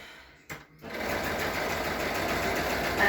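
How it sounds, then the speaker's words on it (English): Sewing machine stitching a seam on a fabric face mask, a brief start-up then a steady close mechanical whir running continuously. "So we've sewn that one, and now we're going to sew this one."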